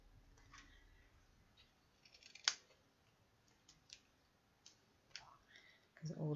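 Scissors cutting card, with a few quiet, close snips and clicks spaced over several seconds and a louder cut near the start. Speech comes in at the end.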